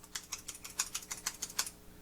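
Computer keyboard keys pressed in a quick, even run of about ten crisp clicks, close and fairly quiet, with no talking.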